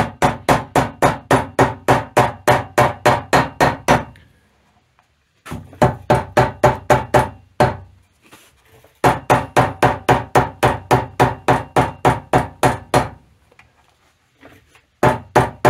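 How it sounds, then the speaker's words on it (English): Rapid bursts of sharp hammer taps cut gasket material for a Ford 3000 tractor steering column, striking in quick even runs, each volley of a dozen or so blows separated by brief pauses, close and loud. "So that hammer is just cutting that gasket material."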